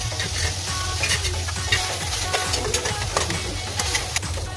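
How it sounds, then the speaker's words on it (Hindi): Ridge gourd fries with spices on a hot tawa, giving a continuous close sizzle broken by light scraping and clicking stirs throughout. "इस तरह से अब पूरी तवे को मसाले के साथ फ्राई कर लेते हैं।"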